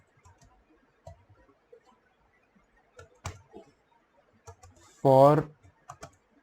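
Sparse, soft clicks from a computer keyboard as someone types Kotlin code, scattered irregularly with quiet gaps and a single short spoken word near the end.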